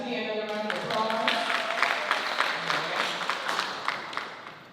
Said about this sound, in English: Let's give Tiffany another round of applause.